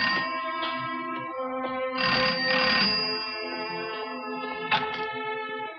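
An old-style telephone bell rings in repeated bursts, loud and close, with no voices.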